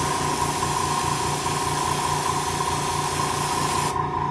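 An airbrush sprays paint onto the arms of a Robby the Robot model in a continuous close hiss with a steady compressor hum underneath, cutting off just before the end.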